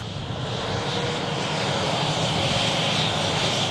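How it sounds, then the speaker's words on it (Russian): An aircraft engine at an airport roars loud and steady as planes resume flying, a dense broadband rush that swells slightly toward the end. "самолеты вновь начинают летать, и тысячи пассажиров отправляются в путешествие"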